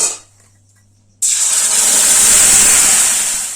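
Ground spice paste hits hot oil that already holds a bay-leaf tempering, for a Bengali rohu fish curry: after near silence comes a sudden loud, close sizzle that stays strong and steady.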